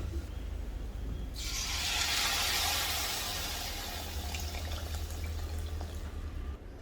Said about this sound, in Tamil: அந்த காயெல்லாம் முங்கி வேகிற அளவுக்கு தண்ணி விட்டுருங்கோ.